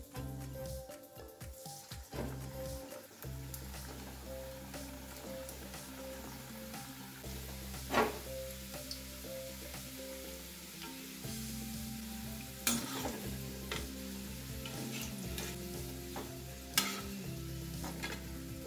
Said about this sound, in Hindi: तेल बढ़िया गर्म हो गया है चलिए अब कचौड़ियों को डाल देते हैं